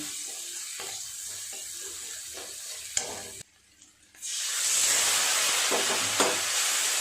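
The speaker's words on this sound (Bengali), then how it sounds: "সব মশলাগুলো খুব ভালো করে একটু নেড়ে চেড়ে কষিয়ে নেব।" Ground chilli and turmeric powder being stirred and fried in a pan while cooking ash gourd with coconut, a steady close sizzle with scraping stir strokes, briefly cut to near silence before the frying resumes louder.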